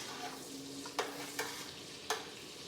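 Onions frying in butter in a pan for a seafood boil, with a steady soft sizzle and three or four sharp utensil clicks against the pan, close and without voices.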